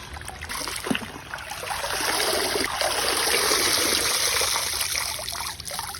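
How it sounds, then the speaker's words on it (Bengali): Sweet potato greens are washed in pond water, a steady close splashing and trickling that swells and holds, with a few small knocks near the start. "শাকগুলোকে পুকুর থেকেই ধুয়ে নিচ্ছি।"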